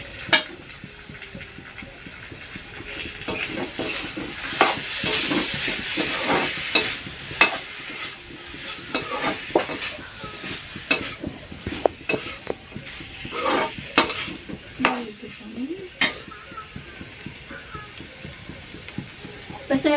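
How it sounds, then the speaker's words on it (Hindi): Masala spices fry and sizzle in a pan on a village kitchen stove while a utensil stirs and scrapes them in a steady, busy rhythm, with scattered sharper clinks from the pan throughout. "तो ये मेरा मसाला जो कि भुजा रहा है,"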